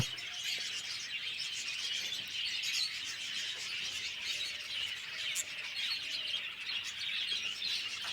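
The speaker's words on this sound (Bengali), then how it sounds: "এখন দেখছেন বদ্রি পাখির যে বাচ্চাগুলো হয়েছে সেগুলো আলাদা করে রাখা রয়েছে" Budgerigar chicks in a bird-farm colony make dense, faint, high chirps and squeaks continuously, with no one speaking.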